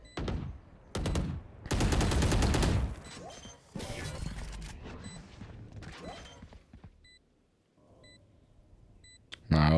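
Planted spike beeping in a Valorant tournament match: small evenly spaced beeps ring out after bursts of loud gunfire and a flashbang, with a caster's voice talking over the early action.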